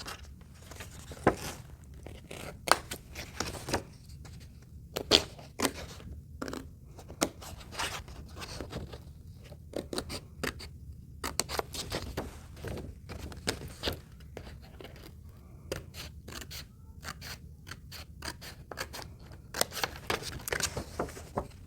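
Scissors repeatedly snip through paper while cutting heart and maple leaf shapes for stained-glass-style suncatchers, giving a long run of crisp, close, irregular cuts with short pauses between strokes.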